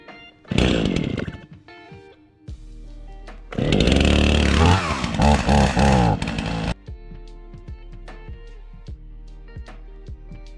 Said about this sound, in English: we'll go ahead and get the chainsaw going